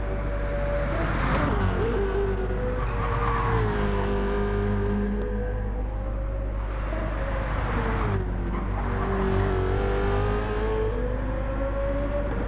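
A BMW M3 racing car engine in Gran Turismo 7 revs continuously during an endurance race, its pitch repeatedly climbing and dropping as gears shift, loud and steady throughout with no speech.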